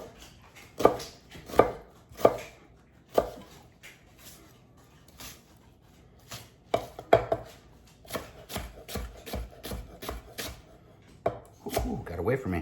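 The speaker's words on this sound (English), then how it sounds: "Now we're going to take some onion. Only going to use half of this little guy. And we're going to mince it." A knife chops half an onion on a cutting board into a fine mince, with bursts of quick sharp taps close by, some brief pauses between runs, and a soft scrape now and then.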